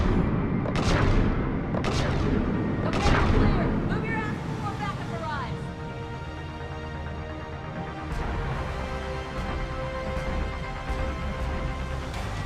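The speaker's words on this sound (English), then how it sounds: "Someone is shooting rockets." Rocket fire and explosions in the video game Mass Effect: a dense run of loud booms and blasts in the opening seconds, then a sustained rumbling battle din with further hits and a faint voice beneath.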